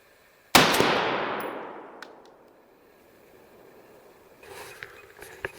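A single loud, close rifle shot from a 16-inch direct impingement barrel firing 55 grain M193 5.56 ammunition at a steel armor plate, with a long decaying boom, then faint clatter afterward.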